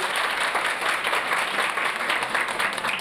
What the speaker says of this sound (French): Monsieur Samoura, applaudissez pour ce temps.